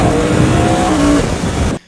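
A Yamaha R1 sport motorcycle engine revs hard and loud at close range, a dense sustained roar that holds steady and then cuts off sharply near the end.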